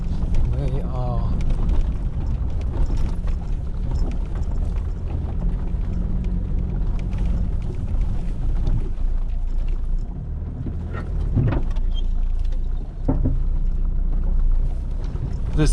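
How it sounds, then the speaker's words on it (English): A Toyota Hilux drives along a bumpy trail toward a crater lake, a low rumbling engine and road noise with jolts and rattles, close and continuous under some speech. "This vehicle just handles everything. My very first Toyota Hilux."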